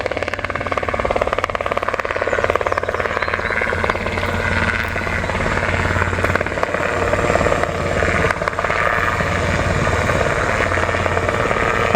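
A low-flying helicopter attempting to land makes a loud, continuous rotor thump and engine roar close by, steady throughout with no voices.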